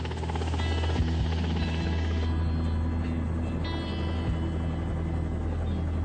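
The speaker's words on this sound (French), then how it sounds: "Merci d'avoir loué cet hélico, Jack." A rented helicopter in flight during a search, its low thumping rotor drone steady and continuous from start to end with no voices.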